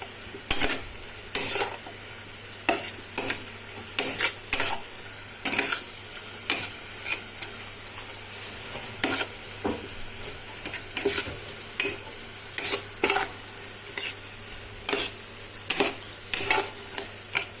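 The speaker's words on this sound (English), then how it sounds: "In goes the chili flakes, and I'm going to give this a really good stir." A sizzling pan with dried parsley and chili flakes being stirred vigorously, a steady quiet hiss broken by repeated sharp scrapes and clinks of a utensil against the pan at an uneven rhythm.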